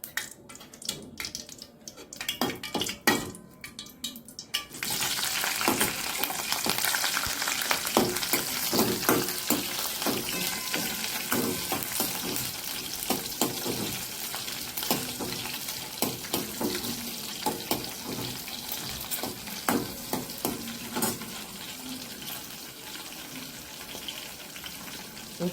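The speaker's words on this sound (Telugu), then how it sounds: "కొంచెం 1 సెకండ్ వేయించుకున్న తర్వాత దాంట్లోకి మనం పచ్చిమిర్చి వేసుకుందాం." Bay leaf and green chillies fry in hot oil in a pan for jeera rice with rajma curry. A few quiet clatters come first, then a loud, continuous sizzle with crackling pops runs steadily to the end.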